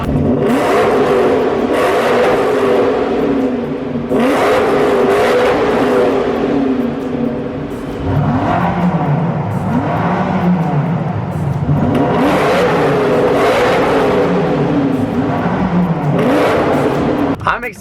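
Engines of a 2015 Lamborghini Huracan and a supercharged BMW M5 rev hard in turn, loud and close, with rising and falling pitch sweeps over a constant engine roar and some speech in the background.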